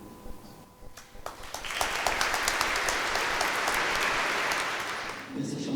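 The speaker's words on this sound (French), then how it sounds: "Les applaudissements disent merci" Audience applause at a French religious tricentenary gathering, some scattered early claps swelling into sustained, steady clapping of a large crowd that fades toward the end.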